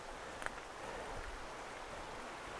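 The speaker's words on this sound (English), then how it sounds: "All you can hear is the water just going down this stream here" Water running down a small stream in the wooded Lydford Gorge, a soft, steady, even rush close by, quiet and continuous with no voices and only a faint tap near the start.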